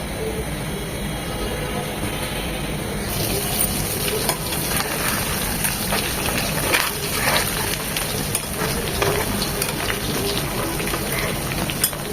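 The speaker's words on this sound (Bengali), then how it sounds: "একদম কড়া করে খুব ভালোভাবে ভেজে নিতে হবে এগুলো" Taki fish frying crisp in mustard oil, a dense steady sizzle that swells louder partway through, with bursts of crackling spatter and faint utensil knocks.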